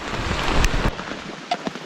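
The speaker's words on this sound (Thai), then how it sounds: "ฝนจะตกก่อนนะครับ" Rain falls in a dense jungle as a steady, hissing wash of noise, with a few soft thumps and gusts mixed in and no voices.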